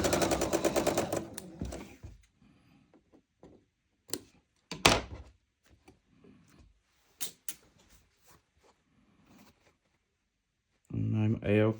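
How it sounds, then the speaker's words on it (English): A sewing machine stitches a quilt unit in short mechanical bursts, one near the start and another at the end, with thunks and handling noises between. "sometimes I will sew one unit at a time and check it"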